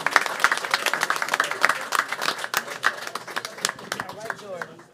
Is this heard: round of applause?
yes